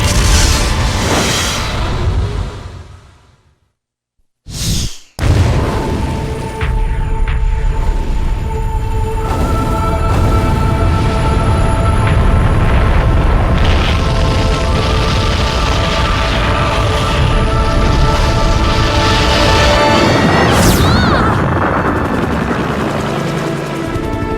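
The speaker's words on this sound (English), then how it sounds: "Raccoon City is completely destroyed by a missile strike" In the Resident Evil game, a missile strike wipes out Raccoon City: a loud roar gives way to a brief silence, then a sharp blast followed by a long, dense rumble of explosion and debris.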